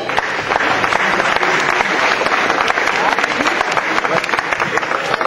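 Audience at a French mountain-bike event applauding steadily, a dense, loud round of clapping with some crowd voices mixed in.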